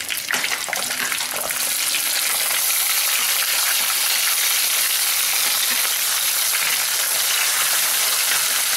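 Onion and garlic with a pinch of asafoetida frying in a clay pot for a Tamil moong dal kulambu, giving a dense, steady, loud hiss of oil that runs unbroken, close and without talk.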